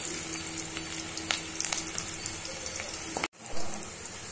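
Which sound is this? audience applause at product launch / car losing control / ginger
ginger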